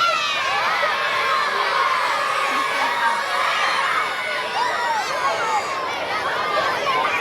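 Crowd of children screaming and cheering loudly at an outdoor community fun run, a sustained wall of high excited voices and whoops that stays dense and close throughout.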